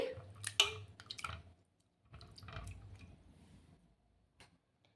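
Quiet wet sloshing and swishing of husked black gram lentils being rinsed in water, with soft drips and splashes in short bursts, close by.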